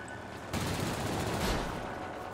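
Aircraft machine guns fire in the World of Warplanes video game, a loud sustained burst that begins abruptly, swells, then eases off against a steady engine drone.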